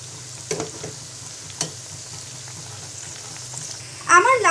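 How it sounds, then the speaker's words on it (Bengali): Spicy bottle gourd leaf pakoras deep-frying in hot oil give a steady close sizzle, with a few soft scrapes and clinks from turning them and a louder bubbling burst near the end. "এবার ব্রাউন কালার করে লাউ শাকের ঝাল পাকোড়া ভেজে নিব"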